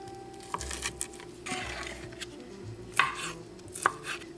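A knife cuts through meat for a farmer's casserole on a board, with several soft, uneven chops and a couple of sharper knocks against the board, close and unaccompanied by talk.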